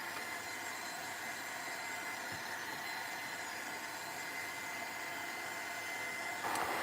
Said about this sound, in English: I'm not drying the wax, I'm drying the heavy body gel and the paint